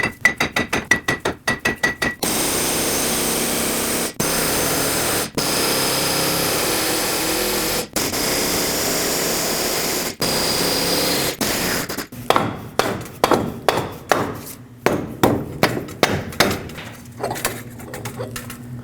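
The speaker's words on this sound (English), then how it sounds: "Now use a large hammer, tap it side to side until it comes right out." A large hammer knocks a wheel hub out of a 2009-2010 Dodge Ram 1500, starting with quick metallic taps, then sparse heavy blows, then a fast run of ringing strikes toward the end.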